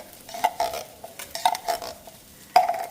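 Leftover tomato paste scraped from its container into a soup pot, a series of short, faint metallic scrapes and wet smears in an uneven rhythm, close up in a quiet kitchen with no talking.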